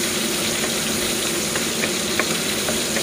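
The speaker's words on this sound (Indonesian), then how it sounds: "tumiskan sehingga naik bau" Chicken sautés in a pan with aromatics, a loud, steady sizzle with faint stirring scrapes, close and continuous, with no talking.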